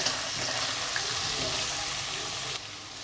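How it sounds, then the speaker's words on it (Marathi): Chopped vegetables for veg fried rice sautéed in a pan over high heat give a loud, continuous sizzle with faint stirring scrapes, close and steady, then the hiss drops slightly near the end. "आता हे पण थोडंसं परतवून घेते फास्ट गॅस करूनच परतवून घेते"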